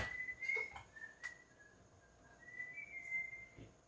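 Faint, wavering whistled notes in a quiet abandoned house, a few drawn-out tones rising and falling with short pauses, distant and thin.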